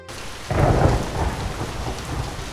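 Cartoon-style storm effect of steady rain with a rolling thunder rumble that swells after a quiet start and holds loud and close, with no voices.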